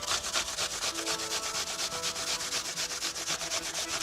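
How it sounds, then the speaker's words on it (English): Two apples are grated by hand on a grater, giving a close, steady rhythmic rasping of fast repeated strokes with no talk. "Grate 2 apples."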